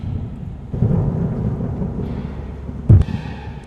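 A night thunderstorm rumbles with steady heavy rain hissing throughout, then a sharp, close crack of thunder near the end; a cartoon sound effect with no voices.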